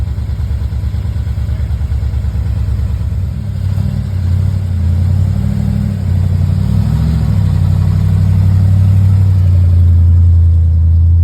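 A 1959 Chevrolet Impala idles loudly nearby, its deep engine note swelling and rising as the car pulls away and drives off.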